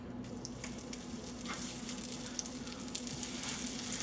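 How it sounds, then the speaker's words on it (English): Cod cakes fry in canola oil and butter, with a steady close sizzle and crackle that runs without a break. "I have about 1 tablespoon of canola oil with 1 tablespoon of butter, and now we're just going to go ahead and drop these in"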